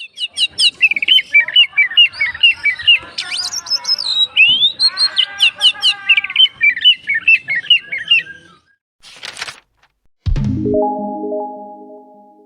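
An oriental magpie-robin sings a loud, varied stream of rapid chirps, whistles and trills, close by, followed by a few short squawks and a brief electronic tone.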